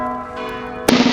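Bell ringing in a Game of Thrones scene: a sustained tonal ring with layered overtones fades, then a second loud bell strike rings out sharply near the end, with no talk.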